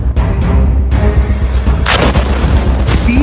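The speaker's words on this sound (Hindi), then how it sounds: "दूसरा धमाका" Blasts in Gaza amid the Israel-Hamas war: a series of deep booms and sharp cracks over a constant low rumble, with a louder burst near the middle and another near the end.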